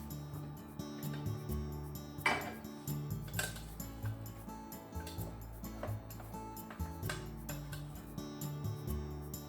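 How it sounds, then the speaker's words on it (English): Cooked rice being fluffed in a pot, giving irregular close scrapes, taps and clinks of a utensil against the pot, with soft cooking-kitchen background and no talking. "The rice should be ready too by now, so let's fluff it."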